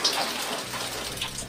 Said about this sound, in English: it's raining really heavy